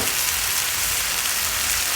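Mushrooms stir-fry with basil in a hot pan, giving a dense, steady close sizzle with no talking.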